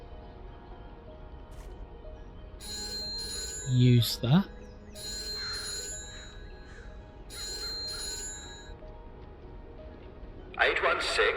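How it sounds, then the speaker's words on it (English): A telephone ringing in a video game train station: bursts of electronic ringing repeat at a steady rhythm, broken by a short spoken line, a brief whooshing effect and a faint rustle at the end. "there's a telephone ringing, so let's go over to the telephone."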